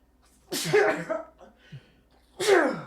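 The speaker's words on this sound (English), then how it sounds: "You're going to sneeze in my home?" Two sharp sneezes, close and loud, separated by a short pause with a faint breathy sound between them.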